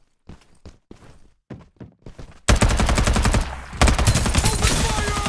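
Gunfire erupts in the squad battle video game Farlight 84: soft footstep-like thuds give way to loud, rapid automatic bursts that continue close and sustained to the end.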